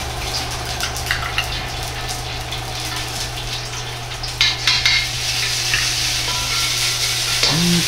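Steady oil sizzle and frying crackle of chili bean paste (doubanjiang) in a pan, continuous and close, with a few light stirring scrapes and clicks near the end.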